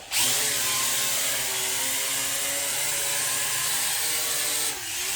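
A new motor runs at speed setting 3 with a loud, steady, unbroken whine and rumble from start to finish. It cuts off briefly near the end.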